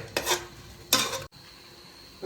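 Onions being stirred in a pan while cooking chicken madhooth, heard as two short scraping bursts of utensil against the pan, then a quieter stretch with a faint background sizzle.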